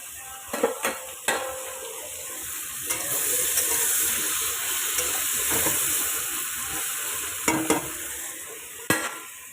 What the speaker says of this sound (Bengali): এখানে চিকেন কষা চলছে জল ছেড়েছে